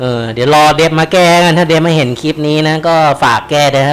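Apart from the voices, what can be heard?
None of the usual background noises is heard.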